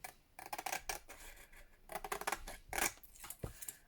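Scissors snip through paper and card while trimming white edges for a handmade faux postcard, giving a quiet run of short, irregular crisp cuts close by with no talking.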